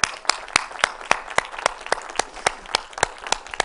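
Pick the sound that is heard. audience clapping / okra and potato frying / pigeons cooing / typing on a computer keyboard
audience clapping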